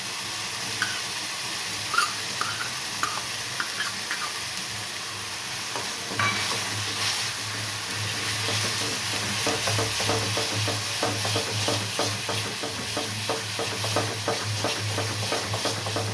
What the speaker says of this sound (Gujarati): પેસ્ટ થોડી ગુલાબી થાય એટલે આદુ મરચાં લસણની પેસ્ટ નાખી દઈશું.